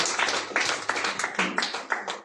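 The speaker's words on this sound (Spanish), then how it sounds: "Un voto de aplauso al maestro." A congregation at a Spanish-language church service gives the pastor a short round of applause, uneven claps sounding close and fairly loud for a couple of seconds.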